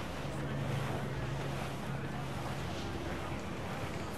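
A sailing ship cuts through open water in the video game Assassin's Creed Black Flag, a constant rush of wind and washing waves with a low creaking hum underneath, steady and even throughout.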